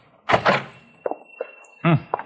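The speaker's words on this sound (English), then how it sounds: "I'll open the door." A shop door opens in a radio western drama: a sharp thunk and rattle of the latch, a couple of lighter knocks, then a second heavy clunk, close and distinct.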